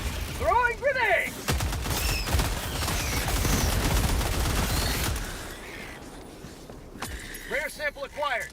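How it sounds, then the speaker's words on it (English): Grenade blast and heavy gunfire in Helldivers 2: a loud, sustained barrage of rapid shots and explosions roars for several seconds, with a voice talking before and after. "Throwing grenade."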